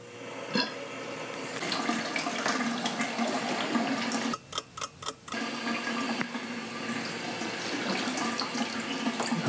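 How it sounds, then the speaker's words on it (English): Water running from a tap into a darkroom sink to rinse a photographic print of fixer, a steady broad rush that keeps going for the whole stretch, briefly dropping out for a moment midway before resuming. "Turn that water on."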